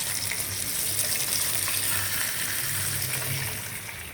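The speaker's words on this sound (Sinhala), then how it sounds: "අපි මේක මේ විදිහට දෙපැත්තට හරව බැදගත්තා" Fish pieces shallow-frying in oil in a pan give a steady, close hiss that fades slightly near the end, with no voices.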